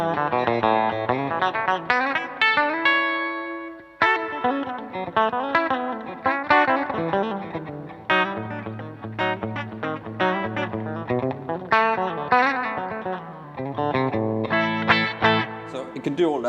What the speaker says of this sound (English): I've got a lot of the old reverb on here.